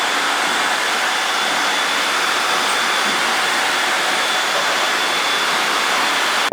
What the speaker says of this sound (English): we're gonna vacuum all the dust that was created by the sanding process